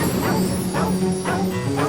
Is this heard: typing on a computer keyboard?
no